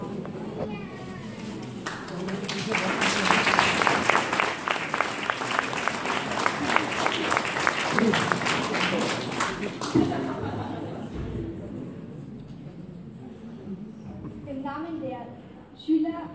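Audience applause rings out at the opening of a school fest, dense clapping swelling and holding for several seconds before thinning out, with voices speaking before and after.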